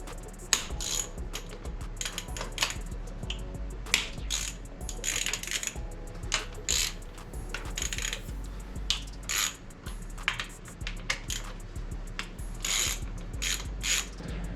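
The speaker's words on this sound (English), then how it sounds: "Now we're down to just removing the 5 10mm bolts that hold the valve cover on" A ratchet loosens the five 10mm valve cover bolts on a 2000 Honda Civic engine, giving close, crisp clicking in repeated bursts with short pauses between turns and no voices.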